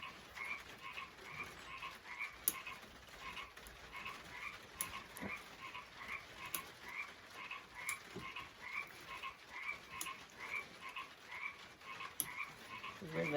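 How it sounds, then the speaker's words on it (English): Loud frogs croaking in a steady, rhythmic chorus that runs through the whole stretch, close and continuous, with no voices over it. "those frogs, loud frogs."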